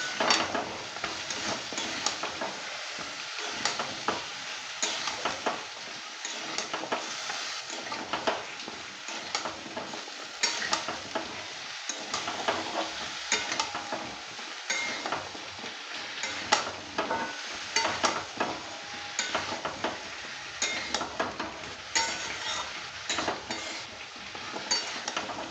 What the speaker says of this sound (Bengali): এটাকে ভালো করে নেড়ে চেড়ে কষিয়ে নিতে হবে